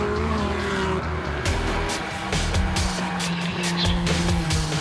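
Nissan Skyline GTR race car working hard through hillclimb corners at Simola, engine note rising and falling with short tyre squeals, loud and steady throughout.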